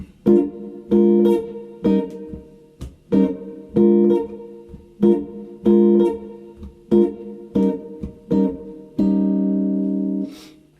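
Jazz guitar strums short, rhythmic chord stabs in a jazz blues pattern, comping with improvised rhythms, clean and close, with varied accents and a longer held chord at the end.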